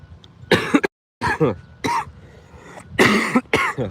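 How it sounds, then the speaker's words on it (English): A fit of harsh, close coughs in several bursts, with short pauses between them and a brief silence partway through. "Excuse the cough, gosh dang."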